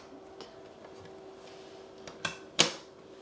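A Nintendo GameCube spins up with a Sims 2 disc inside, giving a faint steady whir under a few soft mechanical clicks and then two sharper clicks near the end, with no one talking.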